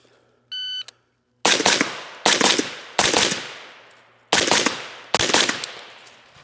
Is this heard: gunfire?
yes